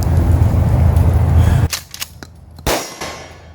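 A shotgun fires number 6 shot at a gun range: a loud rumbling blast, then a few sharp clanks and clicks as the action is worked, no talk.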